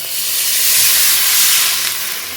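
Water with rinsed spices hisses loudly into a hot pan of arranged fish in oil, a broad steady steam rush that swells and eases over a couple of seconds, close and alone.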